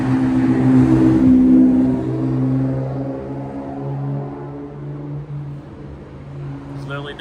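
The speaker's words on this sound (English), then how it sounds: "Oh, we have a loud car." A loud car engine revs on a city street at night, a droning roar that swells early then fades as it moves away, with a person talking briefly over it.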